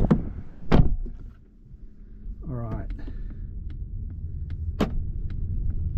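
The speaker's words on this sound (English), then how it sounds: "We're going to try and close the door." The door of a Polestar electric car shuts with a solid thud early on and a second sharper knock later, close up, over a low interior rumble and a brief tonal murmur.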